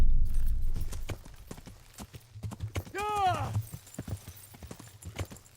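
Hooves clip-clop in a quick, steady galloping rhythm in the video game Kingdom Come: Deliverance, with a horse's whinny rising briefly partway through.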